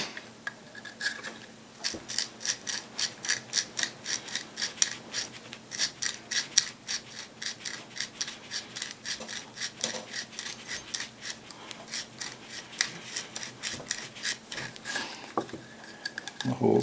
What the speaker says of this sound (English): And so we'll continue with the tapered reamer.